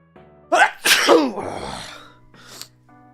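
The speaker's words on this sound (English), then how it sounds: "I'm sneezing." A single loud sneeze with a sharp inhale before it, followed by a softer breathy exhale and a faint sniff.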